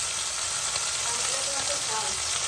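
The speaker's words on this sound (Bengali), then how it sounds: "এখানে পমফ্রেট মাছ ভাজা হচ্ছে" Pomfret fish fries in hot oil with a dense, even sizzle that holds steady and close throughout, with no pauses.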